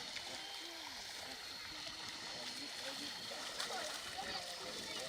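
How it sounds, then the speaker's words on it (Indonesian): Elephants lying down and bathing in a river, with steady splashing and sloshing water close by, continuous and fairly faint. "Para mahut meminta para gajah untuk merebahkan badan di sungai, dan gajah pun mengikuti instruksi mereka."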